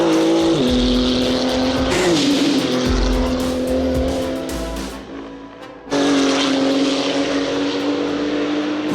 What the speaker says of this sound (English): Let's start the engines.